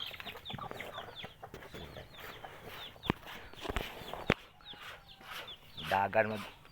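Chickens cluck nearby in short bursts, with a louder clucking call near the end, over faint background activity.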